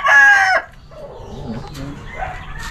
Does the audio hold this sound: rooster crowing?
yes